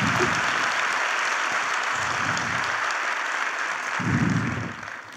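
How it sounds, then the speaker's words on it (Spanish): A crowd at a national tattoo artists' conference claps steadily and loudly for several seconds, the applause tapering off slightly at the end. "Es un fuerte aplauso para todos ustedes por venir al evento."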